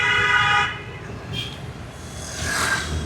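Car horns honk in Bengaluru street traffic: a loud, close blast opens the stretch, then shorter, fainter toots follow over steady road noise.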